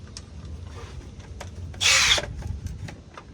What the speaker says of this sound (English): Now we're gonna tighten the pinch welds.